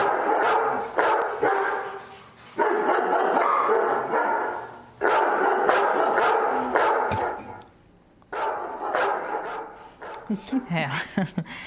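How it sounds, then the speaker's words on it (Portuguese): Dogs bark and yip over several seconds, mixed with talking, with a burst of sharp, quick barks near the end. "Pode soltar os cachorros em cima."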